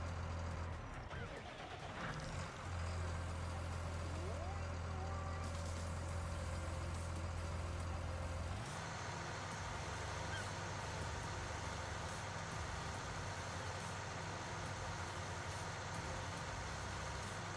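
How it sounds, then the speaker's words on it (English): A tractor engine runs steadily outdoors in the Thuringian Oberland, a low continuous drone that carries through the whole stretch while people talk over it. "This tractor sounds better anyway."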